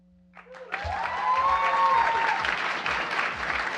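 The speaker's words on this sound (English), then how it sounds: "One more round of applause." Audience applause fills a hall after a poetry recitation at a Poetry Out Loud student competition, swelling quickly into dense, sustained clapping with a faint tonal whistle or cheer riding over it early on.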